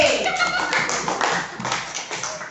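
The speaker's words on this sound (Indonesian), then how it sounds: "tepuk tangan untuk Febri." A short burst of applause, many hands clapping together fairly loudly, tapering off toward the end.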